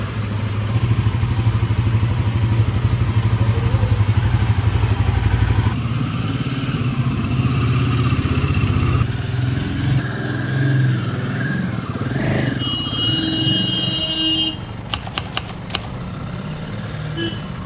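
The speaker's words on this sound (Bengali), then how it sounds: "এবারে বাইকটাকে একটা কোল্ড স্টার্ট দিল" A Royal Enfield Himalayan 450 motorcycle idles after a cold start, a steady low engine thrum close by that shifts in tone partway through, with clattering and scattered knocks toward the end.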